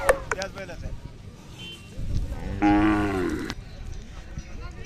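A Khillar cow or bull calf at the Madgyal cattle fair lets out one long, loud, close moo in the middle, with people talking and livestock-market chatter around it.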